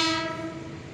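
A KRL TM 6000 commuter train heading from Duri toward Nangke station sounds a loud, sustained horn with rich harmonic tones that fades slightly over its short length, close by, over rumbling rail noise.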